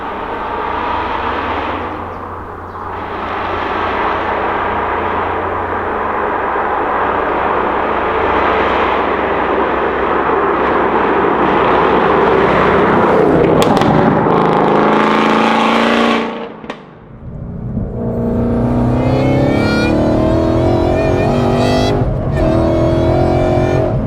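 A supercharged 5-litre V8 Ford Mustang GT of about 862 bhp drives along a rough B road, its engine a loud, steady rumble that swells and briefly dips before pulling hard again.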